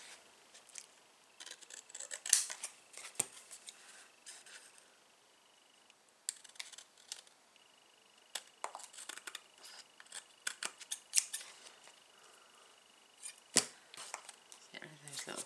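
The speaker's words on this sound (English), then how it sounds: "Now we just trim off the excess." Scissors trim excess card and patterned paper scraps in a quiet room, a run of sharp irregular snips and crisp cuts with pauses between, up close, while someone talks softly.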